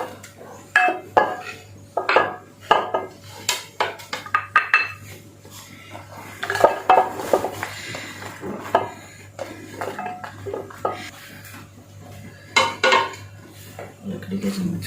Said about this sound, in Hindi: अब मैं इन सब चीज़ों को एक जगह मिक्स करूँगी।